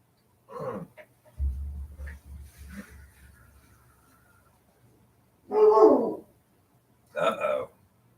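A dog barks in a few short, loud bursts spaced apart near the end, after a quieter stretch of low rumbling and faint sounds in an otherwise calm setting.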